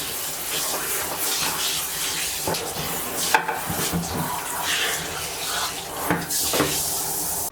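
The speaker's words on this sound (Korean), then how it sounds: "이제 샤워기로 한 번 샥" Bidet parts rinsed under a shower head, a continuous close hiss of spraying water with small clatters of plastic pieces shifting underneath.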